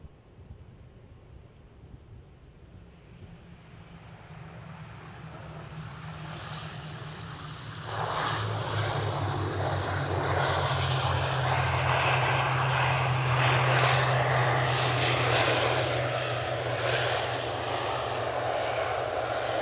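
An airliner at Edinburgh Airport, its jet engines a low distant rumble that swells after a few seconds into a louder sustained roar with broadband whooshing, heard without talk.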